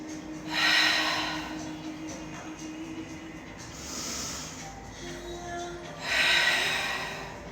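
Deep breathing while holding a yoga pose: two long, loud breathy exhales with a quieter one between them, close to the microphone over soft background music, with no talking.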